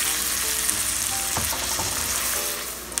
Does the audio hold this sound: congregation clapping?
no